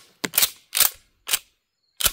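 A .410 shotgun firing TSS shells outdoors in the woods: four sharp, loud reports spaced unevenly, each with a short decay, separated by silence.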